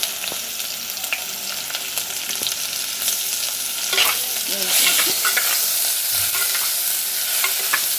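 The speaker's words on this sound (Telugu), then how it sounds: "ఈ టైంలో మనం దంచి పెట్టుకున్న అల్లం వెల్లుల్లి అందులో వేయాలండి" Pounded ginger and garlic fry with chicken in a pan for Pallipalayam chicken, a loud continuous sizzle with scraping stirs and small clinks throughout, growing a little stronger partway through.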